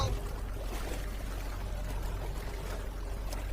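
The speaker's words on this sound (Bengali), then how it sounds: "আমি দুধের মধ্যে পানি মেশাচ্ছি।" Water pours steadily into milk as a cartoon sound effect, a continuous close splashing flow that runs unbroken with no other sounds.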